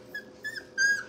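Mother dog and her little puppies, heard close up as three brief high whimpers or whines in quick succession, the last one longer and louder, over a faint background hum.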